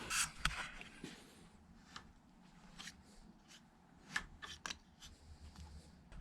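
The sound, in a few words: cutting the rubber off a motorcycle sprocket locking tab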